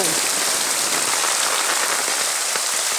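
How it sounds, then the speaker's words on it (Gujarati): Very heavy monsoon rain pours down in a village, a dense, loud, unbroken hiss of drops hammering surfaces with no pause. "અતિ ભારે વરસાદ પડી રહ્યો છે મિત્રો"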